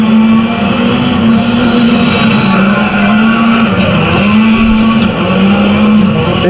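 A loud rally car engine in the Dirt Rally racing game drones steadily at high revs, its pitch dipping and climbing with gear shifts as a rival Ford Fiesta presses close behind.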